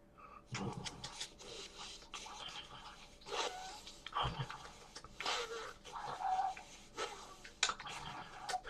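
A dog chewing and nibbling at fleas on its hindquarters, with irregular close-up gnawing, scratching noises and nasal breathing in and out across the whole stretch.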